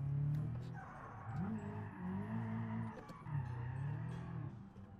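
A car drifts in the driving simulator BeamNG.Drive, its tires squealing in long wavering screeches over a revving engine. The squeals rise and fall in repeated slides at moderate, fairly quiet volume.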